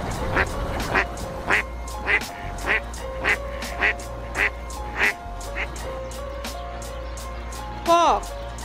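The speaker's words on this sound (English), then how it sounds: "Duck." Duck quacks in a steady series of about a dozen short, fairly loud calls spaced roughly half a second apart, over a low background hum, with a brief different bird call near the end.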